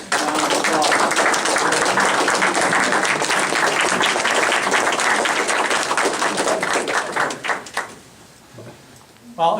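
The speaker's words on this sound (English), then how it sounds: "let's all give them a warm round of applause" A warm, sustained round of applause fills a show-opening event for a Legacy Society founding, dense and steady for several seconds before tapering off abruptly into quieter room murmur.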